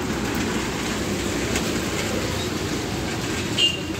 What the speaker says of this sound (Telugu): train is not stopping